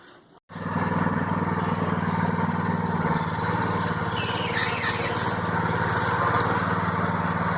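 A tractor engine chugs steadily and loudly nearby while towing a Shasta camper, a constant low rumble that starts abruptly and holds without pause.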